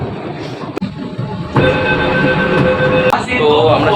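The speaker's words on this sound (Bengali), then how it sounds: "আমরা কিন্তু এখন আমাদের পরবর্তী স্টেশন মহাকরণে ঢুকছি" A Kolkata underwater metro train running deep beneath the Ganga pulls into Mahakaran station with a steady rumble and rising whining motor tones, while a voice speaks now and then.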